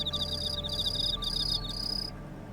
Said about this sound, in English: I could hear the crickets calling.